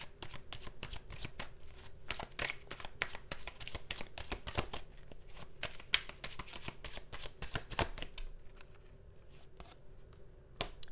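Tarot cards are shuffled by hand in quick, close, quiet riffles and taps that repeat steadily before tapering off near the end.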